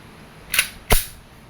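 A WE Glock 17 Gen 3 airsoft pistol fires into a chronograph. Two sharp, loud snapping shots come close together and up close, with no voices.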